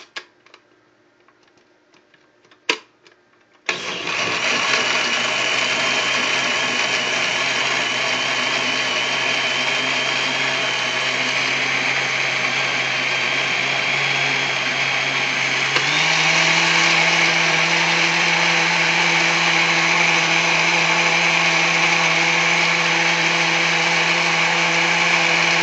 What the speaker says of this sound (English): And ready to blend.